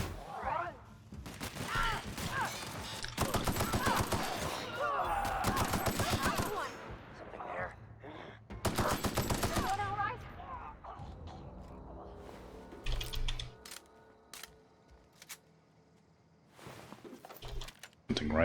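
Hunting rifle gunfire in The Outer Worlds, heard as bursts of loud, sharp shots in clusters amid combat noise, with voices talking between them and quieter gaps later on.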